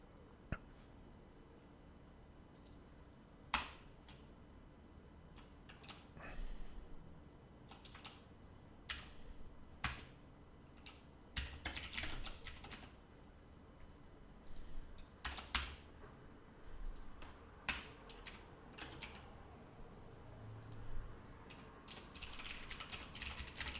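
Someone types on a computer keyboard while coding in Visual Studio. Quiet, close key clicks come in irregular bursts and flurries with short pauses between, over a faint room background.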